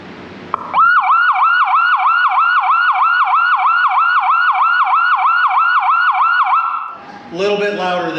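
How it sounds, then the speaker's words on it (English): An electronic race-start siren system starts abruptly and warbles in a fast, regular up-down cycle for about six seconds, loud and close, then cuts off into brief noise. "I'm just going to turn the siren system on down here"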